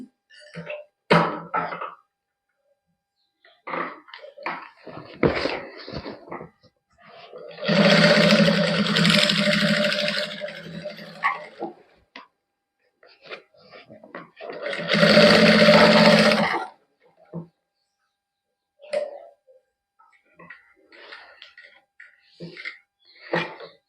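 A sewing machine stitches fabric in a boutique in two sustained runs of a few seconds each, loud and close, with short bursts of handling noise between them.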